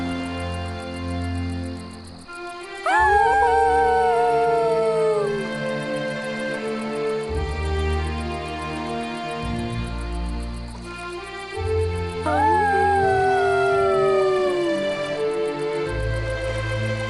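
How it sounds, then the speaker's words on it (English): Two long howls rise and slowly fall, one early and one later, over a soft musical background. "He and Spot looked up at the stars and howled together."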